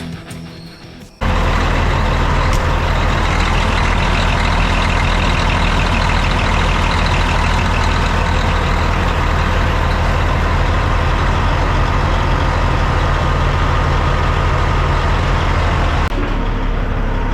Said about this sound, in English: Gonna get the truck started up here and start our day